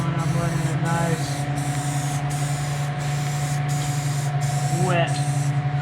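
A spray gun lays a second wet coat of paint on a JDM drag wing for a Tacoma, hissing steadily and loudly with short regular breaks between passes as a low hum runs underneath.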